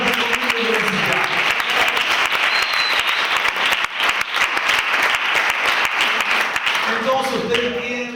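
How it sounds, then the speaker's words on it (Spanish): Audience applause at a Spanish-language church sermon, a sustained burst of many hands clapping that stays loud for several seconds before thinning near the end. "un fuerte aplauso"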